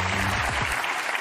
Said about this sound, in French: Je vous demande d'applaudir le docteur Marine Colombel.